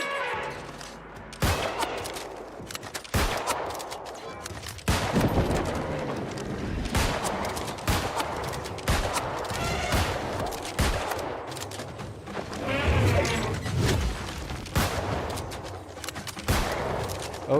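Repeated musket shots fired in the video game New World: Aeternum, loud sharp reports in an irregular volley across the whole stretch, with some echoing between bursts and no talk over them.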